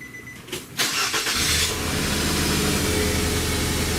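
A 2005 Nissan Altima engine cranks and catches, then runs with a rough, uneven idle from a misfire caused by a fouled spark plug, a steady close rumble with hiss above.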